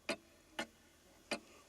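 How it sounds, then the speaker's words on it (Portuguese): A clock pendulum ticks three times, each tick a distinct, sharp, moderately loud click. The ticks fall at uneven intervals against a near-silent background. "mantinha um som grave de seu pêndulo que oscilava de um lado ao outro,"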